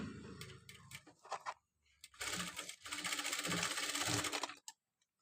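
A sewing machine runs a line of stitches along piping on fabric, with a short burst, a pause, then a longer steady run of rapid mechanical clatter close by.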